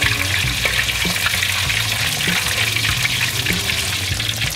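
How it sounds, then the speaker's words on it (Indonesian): Risoles frying in hot oil over a high flame give a loud, dense, continuous sizzle with scattered pops and crackles, steady throughout. "Kita balik-balik dengan agar dia merata, gorengan sampai ke dalam."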